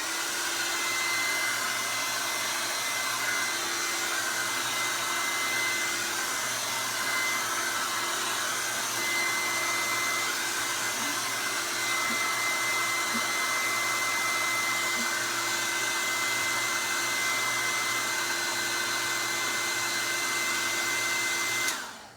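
A hair dryer blows steadily on wet acrylic paint on a canvas, a loud continuous whooshing hum with a fixed motor whine that runs unbroken for over twenty seconds before cutting off.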